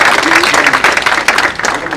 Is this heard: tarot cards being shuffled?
no